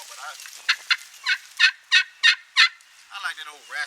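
A single-sided slate-over-glass turkey call with a poplar wood pot gives a run of raspy hen yelps, about eight sharp strokes in a steady rhythm, close and clear with no talk over them.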